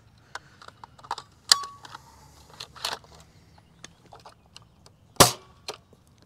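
Dart Zone Pro MK 1.1 foam dart blaster firing, several sharp snapping shots at irregular intervals with a louder crack near the end, close and clear, mixed with handling clicks and rattles.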